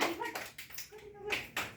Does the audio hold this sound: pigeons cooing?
no